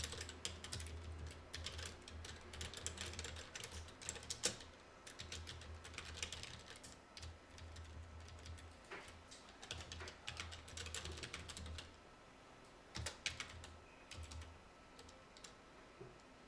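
Rapid, uneven keystrokes on a computer keyboard clatter in bursts with brief pauses between, close and clear, with no talking over them.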